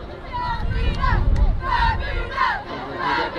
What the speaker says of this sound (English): Isle of Man cheering them on as well.